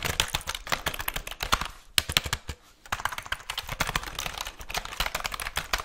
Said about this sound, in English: this is a keyboard. This is a keyboard.